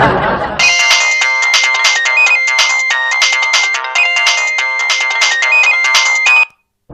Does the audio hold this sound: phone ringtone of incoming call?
yes